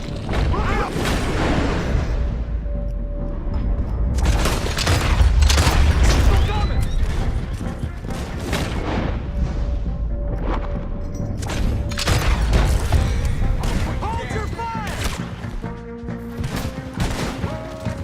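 Gunfire erupts in Red Dead Redemption 2 as repeated loud shots and booming blasts come in uneven bursts, mixed with crashes and voices shouting over the fight.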